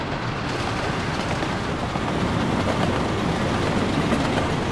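A train runs in Workers and Resources: Soviet Republic, rumbling continuously and loud with a steady rail clatter and no voices.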